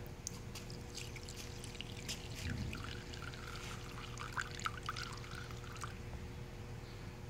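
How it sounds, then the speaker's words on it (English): Liquid is poured into cylinder number 4 of an engine cylinder head being checked for bad valves, a close, steady trickling pour with small splashy gurgles that continues throughout. "Here now I'm going to pour on a cylinder number 4."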